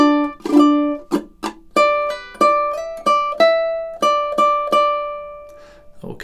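A ukulele plays measures 27 and 28 of a song in a rhythmic run of about a dozen bright strums and plucked notes, each ringing and decaying, heard up close with no talking.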